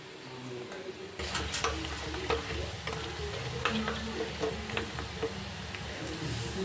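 Fish cutlets fry in oil with a close, continuous sizzle and crackle that jumps louder after a brief quieter start, dotted with sharper spits and pops.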